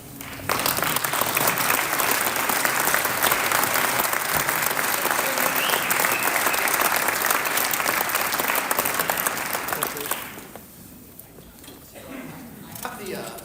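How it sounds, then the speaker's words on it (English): An audience at a Montana Convention of States debt forum applauds loudly for the candidates and officials. The clapping is dense and sustained for about ten seconds, then fades, with faint voices underneath. "give them a round of applause"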